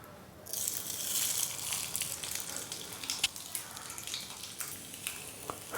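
A semolina breakfast snack brushed with ghee sizzles and crackles steadily in a sandwich maker, a dense bright hiss with scattered pops throughout, close and fairly quiet.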